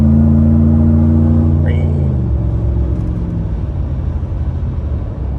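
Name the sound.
Ford F-150 pickup truck driving and braking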